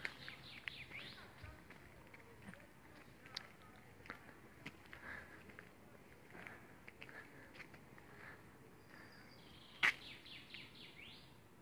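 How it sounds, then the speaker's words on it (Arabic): Birds singing outdoors in Armenia near chalets, with scattered faint chirps and short tweets that come and go over quiet ambient noise, rising to a brief cluster near the end. "أعتقد تسمعون صوت الطيور"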